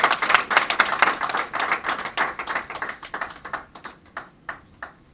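Applause for a speaker at a report launch on safe motherhood financing, a small group clapping briskly and loudly, then thinning to scattered individual claps as it dies away.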